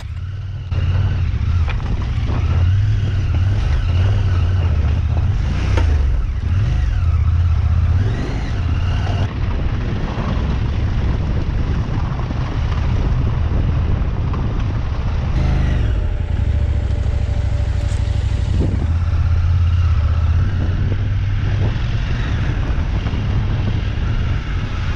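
KTM 890 Adventure R motorcycle ridden solo through remote terrain in Morocco, its engine droning loud and steady throughout with shifting revs and heavy wind buffeting the microphone, no talking.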